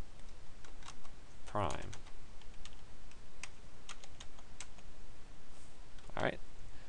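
Keys clicking on a TI-83/84 graphing calculator while a program is entered, with sparse light taps scattered throughout and someone talking briefly twice over them.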